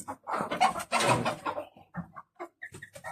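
Fancy chickens on a Kolkata farm cluck close by in short irregular bursts, a louder flurry at first and then scattered softer clucks.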